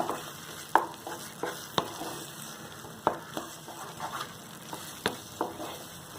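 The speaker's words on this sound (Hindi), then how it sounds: "इसे आपको तब तक चलाना है जब तक कि ये सरफेस पे चिपकना छोड़ दे" Semolina halwa is stirred in a pan with a spatula: repeated scraping strokes at an uneven rhythm over a soft, steady sizzle, close and moderately loud, with no voices.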